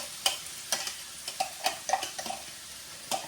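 Carrots with ginger, chili and garlic paste fry in hot oil, a soft crackling sizzle broken by sharp scraping and stirring clicks at an irregular pace.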